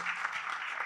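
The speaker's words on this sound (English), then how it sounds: "I think just a round of applause." Steady audience applause at a business panel discussion on customer engagement, a dense even patter of many hands clapping for the whole stretch, moderately loud and without talk.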